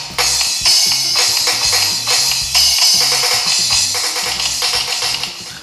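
A fast drum pattern played on the Real Drum app on a Tecno Pova Neo 2 phone, with dense, rapid hits of kick, snare and cymbals running loud and steady throughout.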